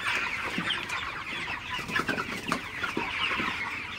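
Broiler chickens on a farm cluck repeatedly in close, overlapping bursts over a steady background murmur of the flock, with no talking.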